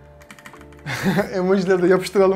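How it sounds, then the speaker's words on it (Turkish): Keys clack on a Logitech POP Keys mechanical keyboard with brown tactile switches, a quick burst of clicks at the start, then a person talks over the softer keystrokes. "Böyle bir klavye bu. Mekanik dediğim gibi brown switch, tactile diye geçiyor."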